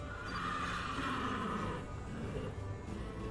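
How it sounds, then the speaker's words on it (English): A horse neighing, a played sound effect used during a tabletop role-playing session. A long, loud whinny fills the clip, with rumbling hooves underneath. "sound of horse hooves on the ground and neighing"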